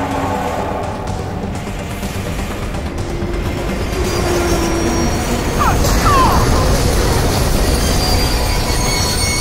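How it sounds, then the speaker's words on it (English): A train rolling on rails in the video game Half-Life: Alyx, a loud continuous rumble with metallic wheel squeals rising midway, close and steady throughout. "We need to find another way to stop this train."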